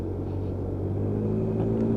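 A Lexmoto Echo 50cc Euro 5 moped is ridden at steady speed, its small engine giving a continuous low droning hum with a faint whine and wind rumble and no voices.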